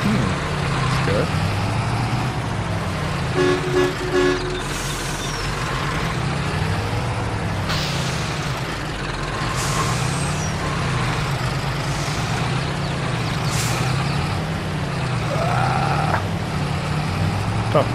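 Truck engine in Farming Simulator 22 droning steadily at a constant loud level throughout, with brief hiss bursts like air brakes, and someone talking over it now and then.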